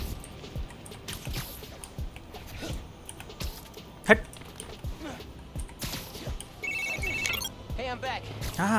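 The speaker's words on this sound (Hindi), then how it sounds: "पीट का फोन आ गया" In the Spider-Man: Miles Morales video game, a phone rings with short repeated electronic trills near the end, set among game sound effects, clicks and a sharp hit, while a person talks over the gameplay.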